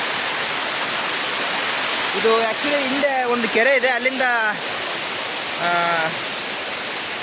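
Rushing water of a hillside waterfall swollen by overnight heavy rain, fed from a tank above, roars as a steady broadband wash throughout while someone talks over it.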